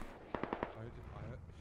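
A BTR armored vehicle in the game Squad firing its gun, a quick burst of four sharp, evenly spaced shots with a fainter trailing rumble and a voice partly over it.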